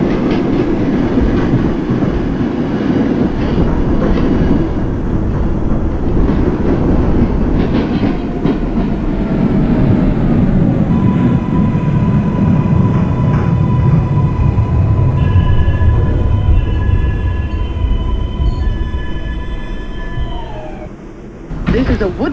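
Simulated IRT Lexington Avenue Express 4 subway train running toward Woodlawn in the Bronx, a steady loud rumble of wheels and motors with rising electric whine tones, slowing toward the end before a brief pause and renewed noise.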